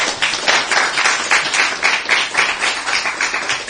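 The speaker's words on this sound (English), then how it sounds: "Please give them a round of applause" An audience at an environmental essay competition award ceremony applauds the award recipients, a dense, continuous patter of many hands clapping at steady volume with no break.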